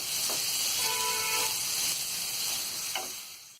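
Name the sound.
chopped onions frying in a pan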